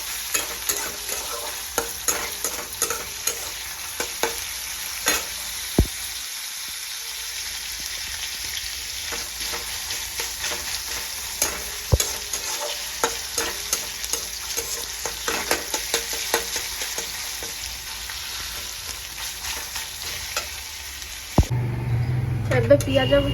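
Onions fry in a pan with a steady, close crackling sizzle and frequent scraping stirs. Near the end a brief louder burst of sound comes in.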